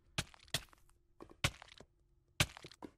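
Irregular thuds and cracks from invisible spectators' footsteps in Minecraft, sounding as a handful of sharp, close knocks spaced unevenly over a quiet background.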